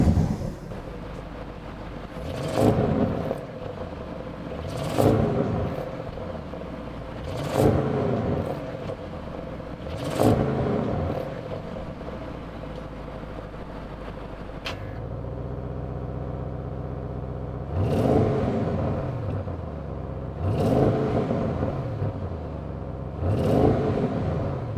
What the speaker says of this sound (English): I'm revving it and I'm not getting that excitement.